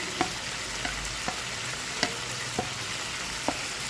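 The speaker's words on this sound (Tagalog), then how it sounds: "Add natin ang ating onion, garlic, ginger, kamatis. Sabay-sabay na lahat." Onion, garlic, ginger and tomato sauté together in a hot pan for adobong, giving a steady crackling sizzle broken by a few sharp clicks of a utensil against the pan.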